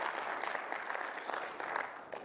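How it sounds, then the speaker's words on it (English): A conference audience gives a round of applause, a steady, moderately distant patter of many hands clapping with no voices over it. "maybe a round of applause"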